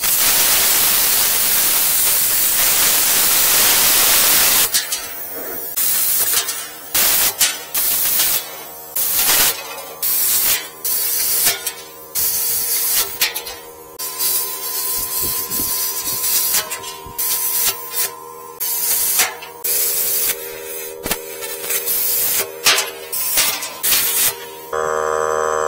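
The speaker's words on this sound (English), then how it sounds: "That's why the last few cuts, I think the plasma alone was cutting it." A 50-amp 220V IGBT high-frequency inverter plasma cutter slices through metal, a harsh hissing roar broken into short bursts with abrupt starts and stops, loud and close, with no talk over it.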